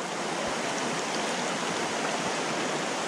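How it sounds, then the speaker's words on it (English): River water rushing after heavy rain in Mt Field National Park: a loud, continuous broadband roar of fast-flowing current, close and steady throughout with no voices. "There's a lot of water coming down here"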